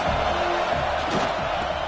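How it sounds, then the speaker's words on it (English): A stadium crowd in a football video game cheers on a big third down, a steady, dense roar of voices that stays loud and even throughout. "Big third down as the crowd gets behind this defense."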